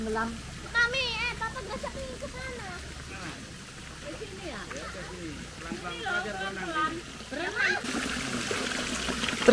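Hot spring water trickles from natural spouts beside a waterfall, a continuous soft splashing stream running beneath a person talking throughout.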